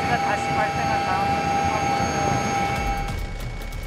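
A medical doctor helicopter flies toward an accident scene, its loud, continuous rotor and engine roar filling the cabin while voices talk over it, with a few rhythmic rotor thumps toward the end.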